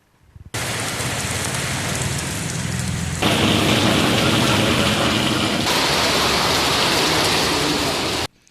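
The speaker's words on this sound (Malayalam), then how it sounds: "ബുധനാഴ്ചയാണ് മഴ തിമിർത്തു പെയ്തത്" Heavy rain pours down in Palakkad district, Kerala: a dense, steady roar with no gaps that grows slightly louder and brighter about a third of the way in and holds that level until it ends abruptly.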